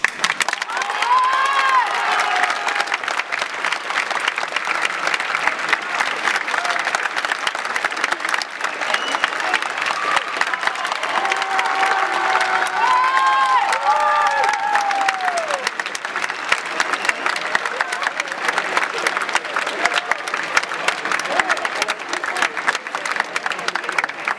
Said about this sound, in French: Pour vous ce soir, j'ose prévoir un tonnerre d'applaudissements.